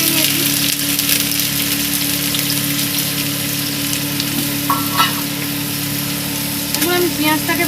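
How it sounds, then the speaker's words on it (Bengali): Chopped onions hit hot oil in a pan, a loud, steady close-up sizzle with occasional stirring clinks, while a person talks over it. "দেখুন তেলটা গরম হয়ে গেছে, এবার আমি পেঁয়াজটা দিয়ে দেবো, কুচানো পেঁয়াজটা দিয়ে দেবো।"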